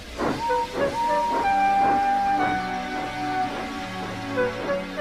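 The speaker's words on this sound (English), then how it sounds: "He didn't have enough steam and came to a stop outside Edward's station" A steam engine in the Trainz railway simulator hisses steadily while chuffing rhythmically, with a sustained whistle-like tone running over it; loud and continuous throughout.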